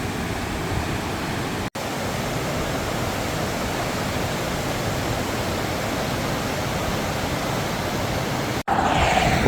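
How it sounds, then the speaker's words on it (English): Little River Falls in Little River Canyon National Preserve, Alabama, pours as a steady, broadband roar of falling water, continuous and fairly loud, with two brief cuts and no voices. "You can see the mist coming off the waterfall."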